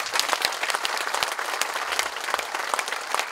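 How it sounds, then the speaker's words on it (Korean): Audience applause fills a lecture hall at the close of a special lecture by a city mayor at a provincial government office, steady dense clapping throughout with no speech over it. "다시 한번 큰 박수 부탁드립니다"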